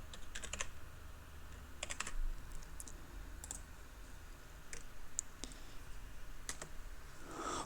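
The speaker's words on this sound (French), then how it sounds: "et j'entre le code à usage unique." Keys tapped on a computer keyboard in short quick bursts while a one-time payment code is entered, the clicks close and crisp over a faint steady room hum.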